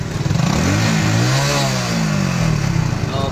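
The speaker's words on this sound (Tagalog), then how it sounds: "pinaandar ni Marcelo ang kanyang motor" A water-powered motorcycle engine in Cebu runs loud and close, revving up and down in rising and falling sweeps over a steady clattering idle, with no talk over it.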